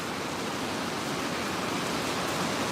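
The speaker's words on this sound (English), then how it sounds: "Man, it is coming down outside. Y'all hear that rain?" Heavy rain pours down outside as a dense, steady hiss of broadband noise, loud and unbroken throughout with no other sounds standing out.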